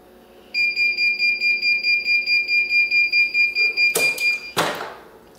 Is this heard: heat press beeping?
yes